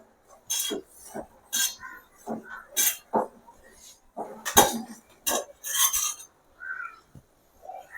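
A utensil stirs sweet pongal rice in a cooking pot, making intermittent scraping and clinking strokes against the metal, close and fairly clear, with quiet gaps between each stir.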